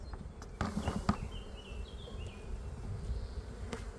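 Honeybees buzz around an open mini mating nuc during a hive inspection, a steady, moderately close insect drone with scattered handling knocks and bumps.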